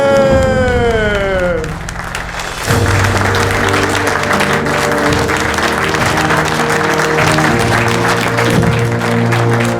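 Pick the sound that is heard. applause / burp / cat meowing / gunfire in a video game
applause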